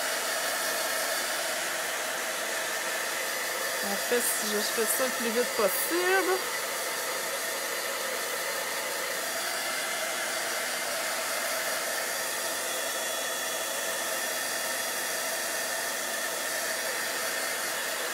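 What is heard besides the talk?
drying tool blowing to dry paint on a craft project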